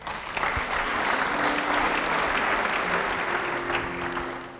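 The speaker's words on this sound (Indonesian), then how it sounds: "Yang setuju beri tepuk tangan." Sustained audience applause fills a church sermon hall, dense steady clapping from many hands at close range, loud throughout and fading slightly at the end.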